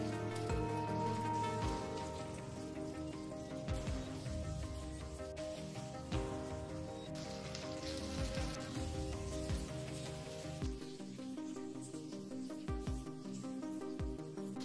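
Tomato, water and salt added to ginger-garlic in a hot pan for veg pulao, a soft, steady sizzle and bubbling throughout with occasional stirring knocks, quiet and close.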